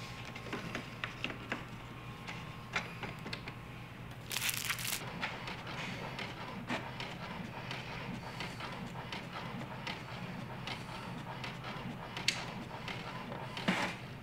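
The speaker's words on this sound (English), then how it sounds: "Let's insert it into the printer and select the document we want to print." An inkjet printer runs a sheet of glossy photo sticker paper through, giving a quiet, continuous mechanical hum with small clicks and feed bursts throughout.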